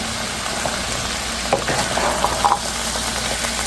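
A chickpea vegetable bhaji frying in a pan, a steady low sizzle with a few soft scraping clinks from stirring near the middle.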